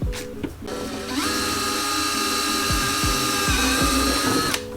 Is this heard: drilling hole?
yes